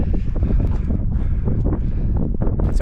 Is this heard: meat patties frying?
no